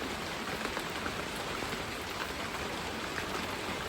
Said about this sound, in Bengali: এমন সময় বৃষ্টি নেমেছে